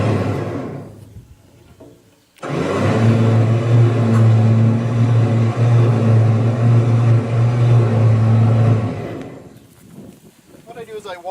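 A Smart car drives up loading ramps onto a 2009 Volvo 670 truck, its engine rising to a loud, steady drone for several seconds before tapering off as it settles.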